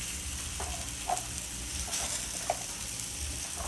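Red potatoes and onions cooking on a Camp Chef flat top grill, a soft, even sizzle with a few faint scrapes and pops, fairly quiet and steady with no talking.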